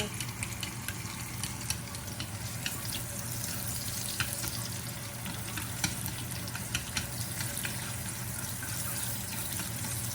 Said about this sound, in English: This is cooking away.